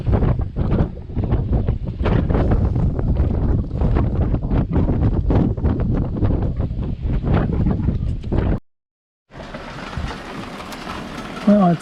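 Strong wind buffets a sailboat at anchor with dense, loud rumbling gusts and flapping, then a brief silent cut before a rushing roar returns.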